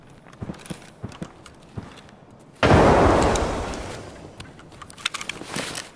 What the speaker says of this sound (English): I'm throwing a nade.